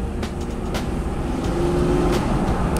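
A car rolling down a steep hill under automatic transmission, a steady low engine and road rumble with a brief rise and settle as the gearbox shifts, heard from inside the cabin without talk.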